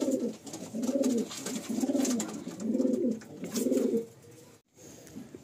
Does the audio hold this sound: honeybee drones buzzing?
no